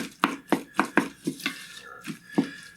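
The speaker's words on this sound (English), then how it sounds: "Coat the corn with some of that mayo, sour cream, etc. mix." Corn in a skillet is stirred and folded with mayo and sour cream for elote in a bowl. About eight wet, sticky scraping strokes come in a steady rhythm, close and moderately loud, with no talking.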